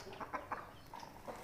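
Young chickens suffering from a cold make a few quiet, short clucks and raspy throaty calls close by, spaced unevenly against a soft background, with no talking.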